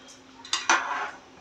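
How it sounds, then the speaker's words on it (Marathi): A spoon scrapes and clinks against a cooking pot as soaked rice is stirred for masala rice, giving two or three short metallic scrapes close by in a quiet kitchen. "भात एकत्र करून घ्यायचा आहे, हलवून घ्यायचा आहे, ढवळून घ्यायचा आहे."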